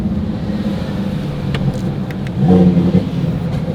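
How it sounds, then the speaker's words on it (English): A twin-turbo Audi R8 RWS engine idles steadily with a low rumble, then briefly swells in a short rev before settling back down. "Let's hear those turbos."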